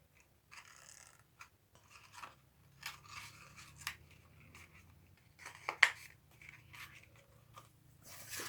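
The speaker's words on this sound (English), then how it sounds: "Just going to trim that ribbon up" Small scissors snip ribbon in a quiet room, a series of short, crisp clicks and soft cuts spaced irregularly, close and faint.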